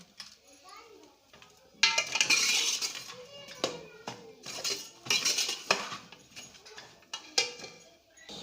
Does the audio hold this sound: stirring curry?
yes